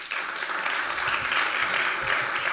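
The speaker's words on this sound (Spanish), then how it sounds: "el señor Cristian Rivera Zapata, a quienes recibimos con un fuerte aplauso." Audience applause at a public talk on autism law in a municipal hall, a steady dense clapping wash that holds evenly for the full stretch with no voices over it.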